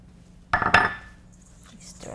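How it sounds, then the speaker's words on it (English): A utensil stirs flour, sugar and almond flour in a bowl, heard as a brief pair of close metallic clinks against the bowl that fade into quiet. "stir that like that"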